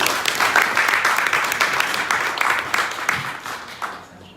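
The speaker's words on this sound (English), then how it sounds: "A round of applause for Andrew, please" Audience applause at a business chamber conference in London, a dense, steady wash of many hands clapping that swells briefly and then thins out toward the end.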